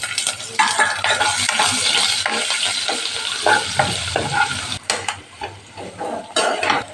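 Asafoetida, chilli and ginger sizzle and crackle in hot oil while a spoon scrapes and stirs against the pan in repeated strokes, close and steady.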